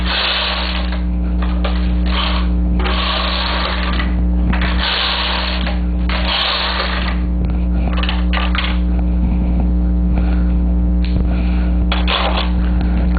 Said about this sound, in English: I'm going to knit a few rows so that I can take it off the machine